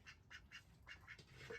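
Ducks quack in short repeated bursts at a flooded home in Alappuzha, Kerala, several calls in quick succession, faint and slightly distant with no voices.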